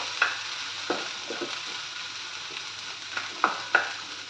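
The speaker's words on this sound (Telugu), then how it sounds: "ఇది బాగా వేయించుకోవాలి, కొంచెం మంచిగా వేయాలి పచ్చిమిరపకాయలు." Green chillies frying in a pan for a coriander roti chutney give a soft, steady sizzle with a few faint clinks and stirring scrapes, close by and without talk.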